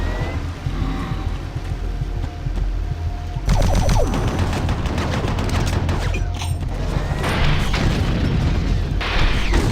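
Chaingunner enemies firing in Doom 3: dense rapid bursts of gunfire and booming impacts, sparser at first then erupting loudly and continuing as a sustained barrage with no talking.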